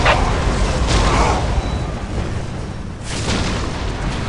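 A Whirlwind artillery tank fires in the Warhammer 40k game Dawn of War, with heavy booming blasts and rumbling bursts that fill the clip loudly and continuously.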